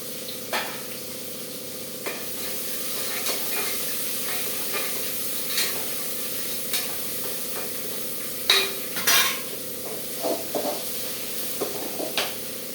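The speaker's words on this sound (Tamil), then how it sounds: "இப்போ வந்து வெங்காயம் தக்காளி போட்டுக்கலாங்க" Onions and tomatoes fry and sizzle in a hot pan while being stirred, a steady close hiss broken by intermittent scraping clacks of the spoon, with a few louder stirring strokes late on.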